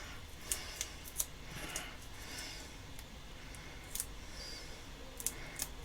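Scissors snipping paper strips for a handmade Christmas wreath die-cut card, a handful of crisp, close cuts spaced irregularly with quiet pauses between.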